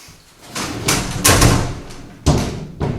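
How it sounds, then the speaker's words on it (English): A house door that has dropped on its hinges thuds and scrapes as it is moved, giving several dull knocks of varying loudness, with the heaviest impact in the middle and a sharp bump near the end. "Have I just broke your door, Kelly?"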